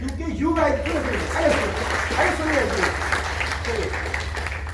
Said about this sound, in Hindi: सब आप अपने लिए जोर से तालियां बजाएं